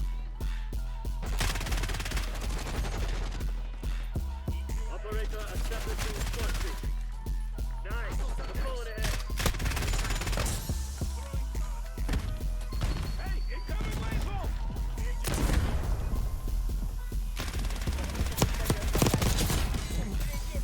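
Ladra SMG fire in the Black Ops 6 video game, dense rapid bursts with impact cracks over steady game noise, with a voice talking over parts of it.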